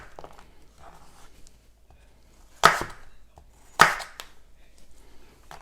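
A knife slices through a ham and pickle roll on a board with two sharp, loud cuts about a second apart, the second tapping down on the board, after a quiet pause.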